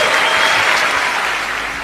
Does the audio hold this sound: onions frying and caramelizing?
no